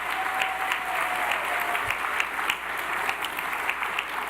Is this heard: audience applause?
yes